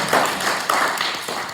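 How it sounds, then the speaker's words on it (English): Brief applause greets a speaker at a camp talk, a few loose claps in a quick ragged patter lasting only a moment. "So a warm round of applause please for Kristine"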